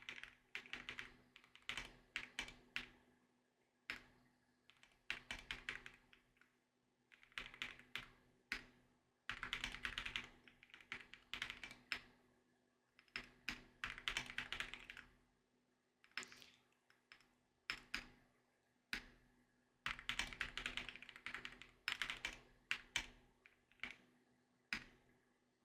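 Quiet, close typing on a computer keyboard, with rapid clusters of key clicks in uneven runs and short pauses throughout, under a faint steady hum and with no talking.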